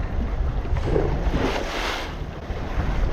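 Steady wind buffeting the microphone outdoors while bass fishing in Fort Worth, a continuous rumbling roar with gusts, with faint water lapping beneath.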